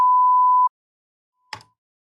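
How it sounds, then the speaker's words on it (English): A steady test-oscillator sine tone from Logic Pro's utility section sounds loud and pure for under a second, then stops, followed by a brief soft click. "It's going to beep at us straight away."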